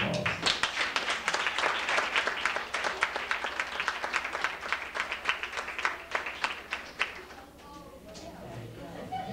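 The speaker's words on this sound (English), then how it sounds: "everyone give them a round of applause" A banquet audience applauds employment program participants: dense, sustained clapping from many hands for several seconds, thinning and fading toward the end, with some voices mixed in.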